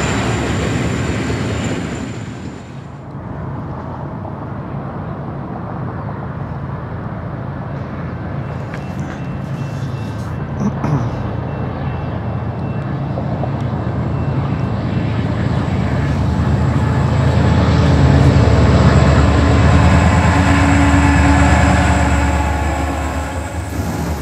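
A loud, continuous rumble of two N-scale model trains crossing a track diamond at once, with heavy rattling and clanking that builds and swells over about twenty seconds.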